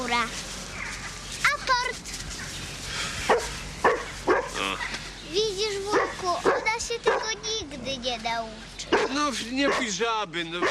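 A dog barks and yips in short bursts outdoors while someone talks over it almost throughout, with whimpering between barks.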